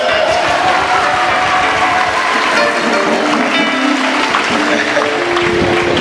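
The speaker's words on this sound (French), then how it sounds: "Applaudissez." A church congregation claps steadily throughout a parish Mass, a dense, continuous wash of applause from a large crowd, with faint voices mixed in beneath it.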